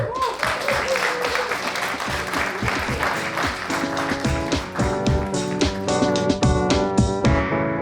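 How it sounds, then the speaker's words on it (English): Applause with a steady patter of clapping, mixed with some music or voices underneath, holding at a fairly even loudness throughout. "And a round of applause to finish."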